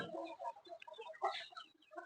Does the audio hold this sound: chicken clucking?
yes